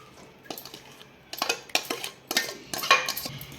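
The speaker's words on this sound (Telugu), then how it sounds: "వేసేసుకొని బాగా కలుపుకోవాలన్నమాట కింది మీదికి." Lemon pieces being mixed in a pot for Telugu lemon pachadi give a few scraping, clinking strokes of a spoon against metal, close by and spaced irregularly, with no talk.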